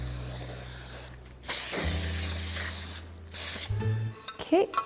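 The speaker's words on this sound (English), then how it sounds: "Let's make sure that we grease every single inch of the pan." Cooking spray hisses from a can as grease is applied to an intricately shaped bundt cake pan, several short close bursts separated by pauses, with faint background hum.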